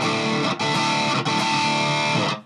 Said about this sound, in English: So, very thick distortion.